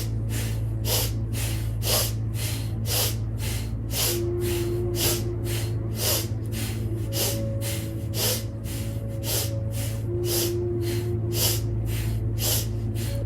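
Rhythmic breathwork session, sharp forceful breaths repeating at an even quick pace, loud and close, over a steady low musical drone with a soft tone drifting in and out.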